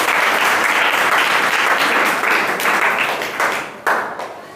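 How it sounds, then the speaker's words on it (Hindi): A live audience breaks into loud, sustained applause at a motivational talk, dense clapping filling the whole stretch and thinning slightly toward the end with a few sharper claps. "चलिए एक बार इनके लिए जोरदार ताली बजाइए।"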